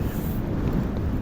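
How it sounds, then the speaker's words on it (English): Strong wind buffets the microphone on a mountain ridge in the Lake District, a loud low rumbling roar with gusty fluctuation filling the short moment, with no speech. "it's blowing a hoolie up here"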